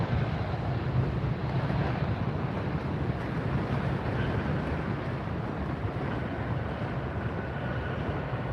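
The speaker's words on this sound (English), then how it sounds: "Breezy here today at this location." Wind gusts buffet the microphone at an outdoor spot in Fort Lauderdale, a continuous loud low rumble and rush with no break.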